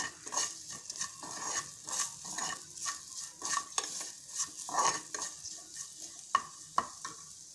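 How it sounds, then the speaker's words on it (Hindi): A spoon scraping and stirring tomato chutney with turmeric and salt in a pan, producing irregular clinks and scrapes over a soft sizzle, close and fairly quiet, with no talking. "इसे अच्छे से मिक्स कर लें।"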